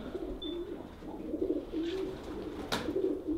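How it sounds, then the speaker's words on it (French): Pigeons coo in soft, repeated low warbling phrases nearby, several calls over a few seconds, with a brief sharp click partway through. "c'est bien des pigeons. Hein. Il y en a partout."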